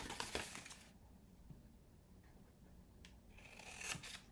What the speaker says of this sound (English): it's easier to cut up to that score line on this side